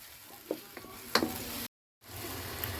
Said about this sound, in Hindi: अब टमाटरों को अच्छी तरह से भून लेंगे ताकि इसका कच्चापन ख़त्म हो जाए।